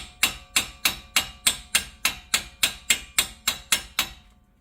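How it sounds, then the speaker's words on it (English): A hammer lightly taps a Jeep Wrangler front axle part near the hub bearing, thirteen sharp metallic knocks in an even, steady rhythm, close and clear with no talking. "we're just going to lightly hit that with a hammer"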